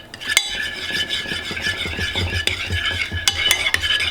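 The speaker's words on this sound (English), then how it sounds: "I'm just going to mix those all together." A spoon stirs a mustard sauce mixture in a bowl, giving close, steady scraping and clinking against the sides with sharper taps now and then and no talk.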